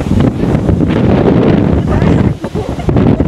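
Strong wind buffets the microphone in a steady, loud roar in Yokohama, Japan, dipping briefly before gusting back up, with a faint hint of water in the background.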